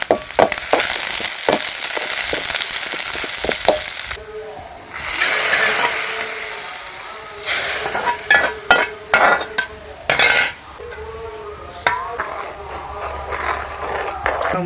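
Curry leaves hit hot sesame oil for a village tamarind curry, bursting into loud crackling sizzles broken by sharp spoon clinks and stirring against the pan, with some talk in the background.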